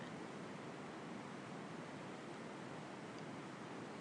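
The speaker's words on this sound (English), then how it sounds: "If you'd like, consider closing your eyes as you focus on the sound of the water." Flowing water at Belle Isle rushes in a steady, even broadband wash with no breaks or other sounds, like a continuous stream or rapids heard up close.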